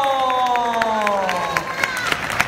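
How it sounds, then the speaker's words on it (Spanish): A live audience claps for a magic trick in which paper becomes a witch's hat, the applause coming up under a descending musical tone and voices, with a few sharper claps standing out toward the end. "¡Aplauso!"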